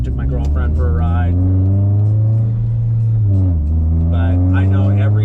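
A 550whp Subaru STI with a stock bottom end rises and falls through its revs at wide open throttle, a loud droning note that sweeps up and down with a voice talking over it.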